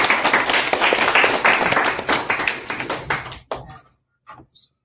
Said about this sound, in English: Can we give Dr. Joseph a round of applause?